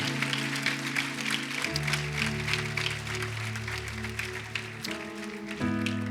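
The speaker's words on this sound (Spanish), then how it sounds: "dale un aplauso fuerte" A church congregation gives steady applause at a sermon, a soft wash of clapping beneath sustained keyboard or organ chords that shift partway through.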